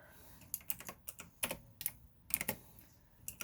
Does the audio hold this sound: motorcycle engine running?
no